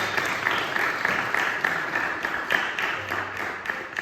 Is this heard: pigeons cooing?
no